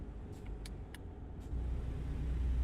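In a truck-driving video game, a heavy truck engine rumbles steadily with a few faint clicks, then its low drone rises and grows louder as it drops a gear.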